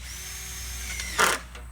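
A power drill drives protruding-head screws into wood during a barn build: a close, rising motor whine followed by a brief louder burst as the screw seats.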